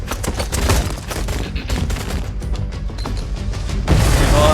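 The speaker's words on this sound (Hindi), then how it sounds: "अभी तक पूरा सामने से भाग के जा रहे हैं और वही फायरिंग भी हो रही है।" Dense, loud gunfire from a war film battle climax: rapid overlapping shots and bursts rattle continuously, swelling into a heavier volley near the end.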